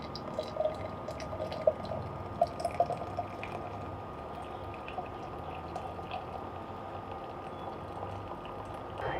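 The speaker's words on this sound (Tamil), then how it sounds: "இந்த டீ வந்து ஒரு 5லேருந்து 10 நிமிஷம் கொதிச்சா போதும்" Herbal sleep tea boiling in a pot on the stove, a steady low bubbling simmer with small pops and drips throughout, close and fairly quiet with no talking.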